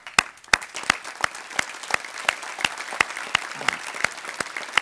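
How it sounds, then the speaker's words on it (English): At an annual membership banquet, a modest round of applause greets the banquet committee, with sparse, distinct hand claps from a small crowd, fairly close and steady, with little talk. "would you mind standing so we can give you a round of applause"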